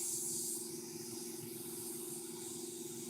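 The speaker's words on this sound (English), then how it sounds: "So to clear the holes, I'm doing my new little technique of, I don't know whether I like it yet because it's kind of sprays solder a bit" Solder is sprayed out to clear holes in an Amiga circuit board, producing a continuous hissing spray with an underlying low hum, steady and moderately quiet for about three seconds.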